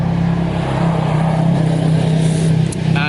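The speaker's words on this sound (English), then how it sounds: "there's a pretty loud motorbike." Loud motorbike engine droning close by outdoors at an FPV drone flying spot, a steady rumbling roar that holds for about three seconds before easing slightly, with a faint tonal beep near the end.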